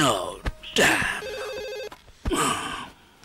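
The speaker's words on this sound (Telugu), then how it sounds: "ఫోన్ రింగ్ అవుతుందండి" A telephone rings with a rapid electronic warble in one sustained burst, framed by brief voices and gasps before and after.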